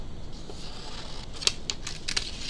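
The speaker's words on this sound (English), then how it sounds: "I'm gonna go ahead and cut this out with my funky scissors" Scissors snip through paper in a craft setting, a few faint, crisp cuts clustered in the second half over a quiet background hiss.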